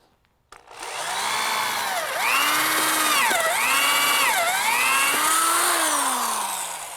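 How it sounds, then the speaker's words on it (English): A power drill bores holes into a wooden frame of a DIY tomato sun drier, its motor winding up and then dipping in pitch repeatedly as the bit bites into the wood, loud and close after a brief quiet start. "You can use any drill you want."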